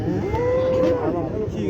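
A bull at a livestock market in Kyzylorda lets out a single loud, drawn-out moo lasting most of the moment, close by over crowd noise.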